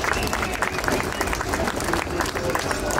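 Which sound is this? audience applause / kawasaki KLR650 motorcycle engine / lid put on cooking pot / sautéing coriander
audience applause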